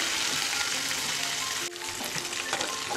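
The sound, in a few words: fenugreek leaves frying in oil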